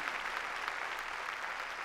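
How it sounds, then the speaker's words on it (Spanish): A church congregation claps for the Lord, dense steady applause that fills the whole short stretch, loud and alone. "Démosle palmas fuertes, hermanos, nuestro Señor"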